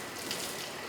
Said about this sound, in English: Then we rinse out the little tray.